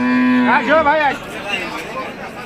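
A Friesian cow moos loudly and close by at a cattle market, one long bellow that rises and wavers before trailing off, with faint background chatter afterward.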